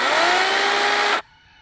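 A battery-powered electric chainsaw runs with a loud, smooth whirring motor whine, then shuts off abruptly and leaves quiet behind it. The saw is close by and no one speaks.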